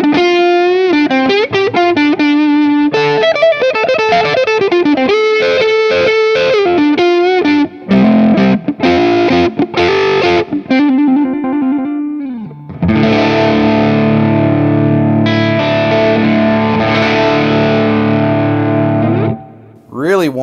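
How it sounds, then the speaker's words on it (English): Electric guitar on its neck humbucker with light overdrive, playing melodic runs and bends, then ringing sustained chords; warm, close and alone, with no talking over it. "let's kick things off with the neck humbucker. I've got a little overdrive dialed in."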